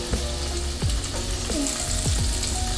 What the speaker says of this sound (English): So we're gonna wait till our butter is melted before we add the asparagus.